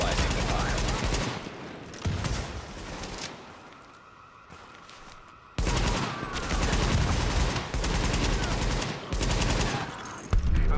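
Sustained gunfire in the game The Division, long loud bursts of automatic fire that break off into a quieter lull and then come back heavily, with faint voices underneath.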